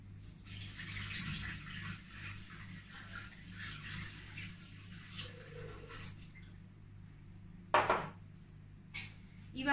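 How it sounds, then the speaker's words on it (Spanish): Water pours into a Thermomix bowl while making a potato pie, a soft steady rushing stream for several seconds that then stops, followed by a sharp clunk and a brief knock nearby. "Vamos a poner 500 gramos de agua."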